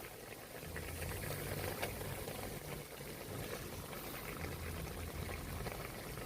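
Beef kare-kare broth boiling in a pot, a steady close bubbling and rolling simmer with a faint low hum beneath, continuous throughout with no talking.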